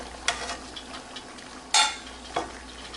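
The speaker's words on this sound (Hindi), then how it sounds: "मैं इसमें अब 1 चम्मच जो घी बचा था वो भी मैं इसमें ऐड कर दूंगी ताकि हम इसे अच्छे से भून लें।" Sohan halwa roasting in ghee, with a spoon scraping and stirring the thick mixture in a pan in a few sharp strokes over a faint sizzle; no talking.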